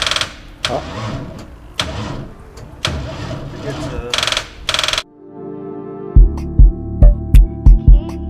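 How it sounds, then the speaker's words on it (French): An old car with a worn, sticking starter and a tired engine is cranked in a series of rhythmic bursts, followed by a low hum and then a run of sharp, evenly spaced thumps close by. "on va démarrer la voiture"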